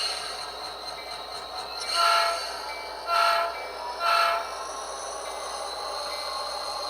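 An HO scale model train on a small switching layout pulls a blue ADM hopper onto a siding. Three short horn blasts sound over a steady low running hum.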